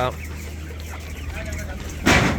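Chickens cluck continuously inside a controlled broiler shed on a poultry farm, a steady close chorus with a louder burst near the end, while someone talks over it.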